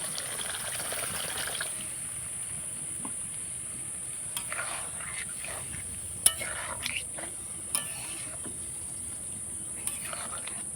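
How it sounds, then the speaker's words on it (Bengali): Water pours into a pan of sautéed banana flower curry, a soft, low trickle and splash with a few small clinks against the pan, fairly quiet overall. "কষানো হয়ে গেছে, এবার জল দিয়ে দেবো।"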